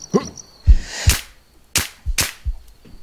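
Several sharp gunshots ring out in a shooter video game, likely from a VSS rifle, as separate cracks spaced irregularly over a few seconds, loud and punchy against near silence.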